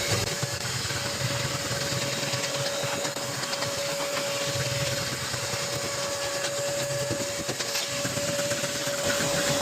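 A vacuum runs steadily inside a dirty car, a constant close whine with a faint high tone and no pauses or talk.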